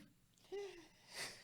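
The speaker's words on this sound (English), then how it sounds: "was an adorable sneeze" A small, soft sneeze from someone at a miniature painting session, a brief burst of breath with a short voiced squeak, close and quiet against a faint room background.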